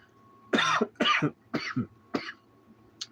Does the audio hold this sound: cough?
yes